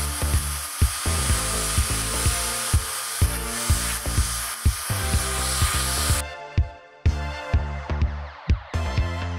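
A VSGO electric compressed air blower whirs loudly and steadily, then cuts out and restarts in short bursts, with clicks and knocks from handling between runs.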